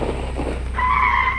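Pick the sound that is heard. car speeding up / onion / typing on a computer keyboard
car speeding up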